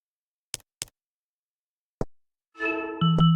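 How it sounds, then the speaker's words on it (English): A crank is turned to aim a cannon in a virtual reality app, giving two sharp clicks, a later single click, then a brief rising mechanical whir ending in a sustained tonal hum, all isolated without speech. "Aim the cannon left and right using the crank."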